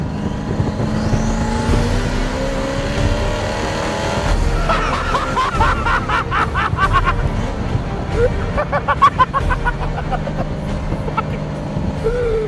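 A Hennessey Venom GT sports car engine pulls hard accelerating in third gear, a rising roar with rumbling exhaust, heard from inside the cabin with faint background noise.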